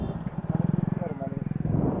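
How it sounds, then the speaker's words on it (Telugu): Motorbikes pass close by with a steady, throbbing engine drone that swells and fades over a couple of seconds, while people talk over it. "బైక్లో వస్తున్నాయి"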